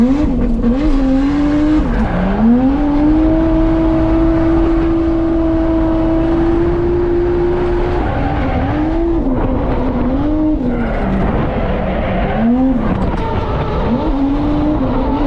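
Toyota JZX car lapping Ebisu circuit, its engine held at a loud steady drone that dips and swells as it lifts off and powers out of corners, with occasional tire squeal, close and continuous.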